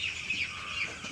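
Chickens clucking in a village poultry yard, a soft steady chatter of several birds close by with a faint chirping edge, no voices over it.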